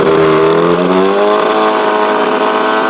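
A cheap wood chipper chews through a quarter-inch branch, its loud, steady motor whine sagging in pitch as it bites the wood, with no talking.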